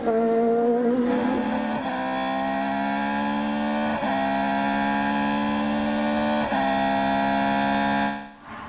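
Onboard a Formula 3000 race car at the Nurburgring, a loud, sustained high-pitched engine whine holds steady, with brief jolts and pitch dips as the car bounces over curbs, fading at the end.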